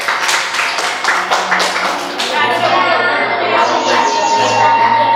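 A group of kindergarten children at a school performance claps together, a dense patter of hand claps in the room with a sustained tone and voices beneath it.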